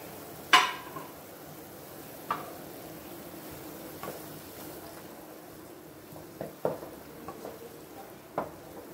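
Hing, salt and sambar powder being stirred into a pan for cucumber sambar, a faint low simmer with a handful of sparse spoon taps and scrapes against the metal.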